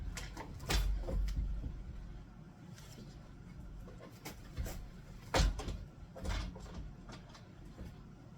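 A pocket door is being fitted during a renovation and slides on its track into the frame, giving soft rolling rumbles and a few sharper knocks and bumps at close range, with no one talking.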